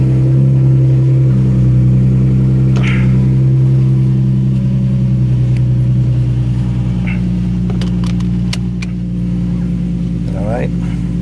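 A car engine idles steadily and loudly at early-morning start-up through a newly fitted Tomei exhaust, a deep continuous drone that settles lower over time, with a few brief higher noises over it.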